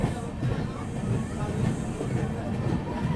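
An Amrit Bharat Express sleeper train from Howrah to Delhi running just after leaving Bandel Junction, a steady close rumbling roar of wheels and carriage noise throughout, with no clear clatter beats.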